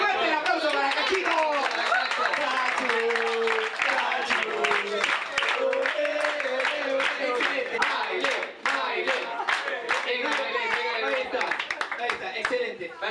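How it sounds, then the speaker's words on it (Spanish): Audience applause and clapping at a wedding celebration with a rock'n'roll theme, a dense crowd of hands beating steadily and loudly for the whole stretch while a voice talks over it. "Fuerte el aplauso para Cachito"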